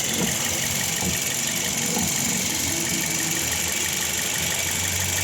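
A Toyota Yaris engine runs steadily at idle, a constant loud drone with a faint rattling vibration and no pauses.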